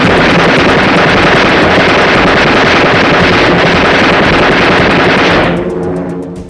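WWII bomber formation firing defensive machine guns, a loud, dense roar of rapid continuous fire mixed with wind and engine rush that runs steadily before cutting off and fading near the end.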